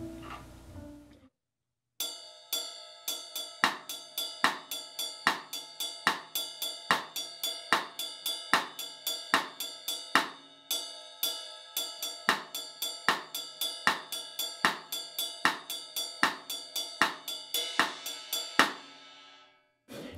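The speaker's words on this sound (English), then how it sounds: "right hand on the bell, left hand on the rim" Drum kit groove with the right hand striking a cymbal bell and the left hand playing rim clicks, a steady, even pattern of bright metallic pings and sharp clicks repeating for about eighteen seconds after a short pause.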